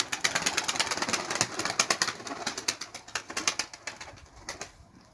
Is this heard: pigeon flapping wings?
yes